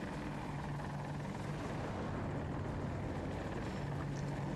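An AH-64 Apache attack helicopter in a video game: a dense, continuous rotor and engine roar with a low steady drone, heard alone and unbroken.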